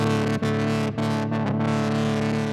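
Sustained guitar tone run through a Generation Loss MKII pedal set to its failure mode, imitating a failing tape medium, with wavering pitch and brief dropouts breaking the steady distorted sound, no talking over it.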